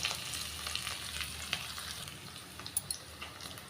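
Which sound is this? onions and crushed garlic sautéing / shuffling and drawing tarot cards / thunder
onions and crushed garlic sautéing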